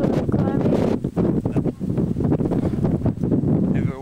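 Gusty wind buffets the microphone in a loud, rough rumble that rises and dips while hiking the Huanghuacheng section of the Great Wall in Beijing, with a voice briefly heard near the end.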